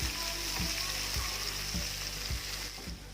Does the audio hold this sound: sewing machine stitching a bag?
no